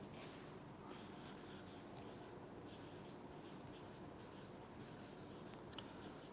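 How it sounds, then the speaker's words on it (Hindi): Pen scratching on paper in a chemistry lecture as text is written out again, a quiet, continuous run of short strokes with brief pauses, close and alone. "मैं दोबारा लिख रहा हूं इसे"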